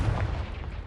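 A short, heavy blast of the Confringo spell in the video game Hogwarts Legacy: one booming, rumbling burst, loud and close.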